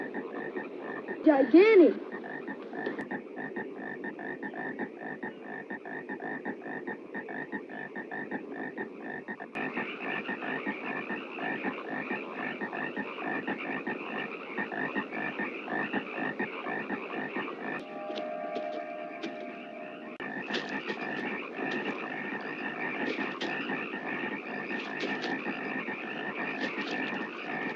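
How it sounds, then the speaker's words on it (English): Frogs croak continuously in a dense chorus that fills the whole stretch, with layered pulsing calls at a steady level and a brief louder burst near the start. A single spoken word is briefly heard over them. "That's a lot of frogs."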